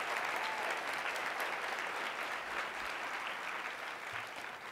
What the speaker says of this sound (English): I would love to give them a round of applause for all of their tremendous support.